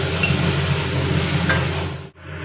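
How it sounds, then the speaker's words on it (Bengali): Potato pieces with salt and turmeric frying in oil, a steady close sizzle under a constant hum and high tone, with a couple of brief clinks, cutting out abruptly near the end. "এবার আলুটাকে ভালো করে একটু ভেজে নেব।"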